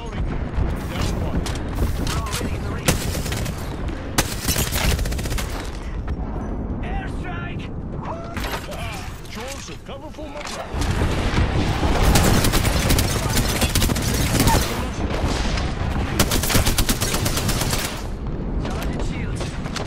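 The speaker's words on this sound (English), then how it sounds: "Calling the airstrike." An Apex Legends airstrike barrage rumbles as dense, sustained booms and gunfire-like bursts fill the whole stretch, swelling louder near the middle with voices talking over it.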